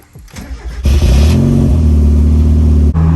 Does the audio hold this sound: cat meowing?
no